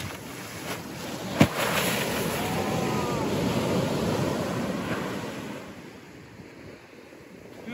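Ocean waves wash onto a beach in a continuous rushing surf with gusts of wind buffeting the microphone, plus one brief sharp knock early on, and the wash easing slightly toward the end.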